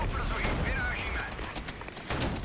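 An artillery strike in the wartime strategy game Regiments, a sustained rumbling barrage of explosions and gunfire crackle throughout, with faint voices mixed in.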